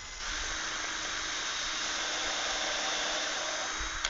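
An electric drill runs in one continuous steady whirring drone for about four seconds, close and fairly quiet, stopping abruptly at the end with no talking.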